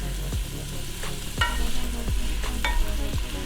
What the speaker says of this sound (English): we are just going to let this cook down until our vegetables are starting to get tender